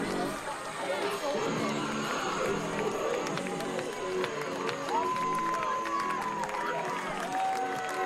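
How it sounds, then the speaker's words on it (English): Lacrosse fans at a boys' Class B semifinal, Victor vs. Canandaigua, applaud and cheer steadily in a continuous crowd roar with clapping and chatter, under a commentator's voice. "They're applauding these young men for this unbelievable effort."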